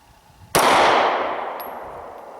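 A Ruger LC9 compact 9mm pistol fires a single sharp, loud shot, with the report ringing and decaying over about two seconds.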